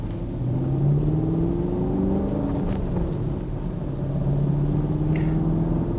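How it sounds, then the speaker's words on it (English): A 2020 Chevy Camaro pulls out from a stop, its engine a steady low rumble heard from inside the car, with the pitch rising and falling gently as it moves off slowly. "a lot of us just want to stop talking and listen to the engine itself"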